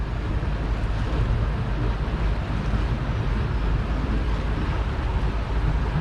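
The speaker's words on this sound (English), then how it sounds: "I'm letting the water in quite gently" Steady, churning rush of water with a low rumble, continuous and fairly loud, as a canal lock on the Northampton Arm fills gently through an opened paddle with a boat inside; no voices.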